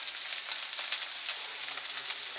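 Green chili paste dropped into a hot pan for a moong dal chicken dish, giving a continuous bright, hissing sizzle up close, steady and loud throughout with no voices.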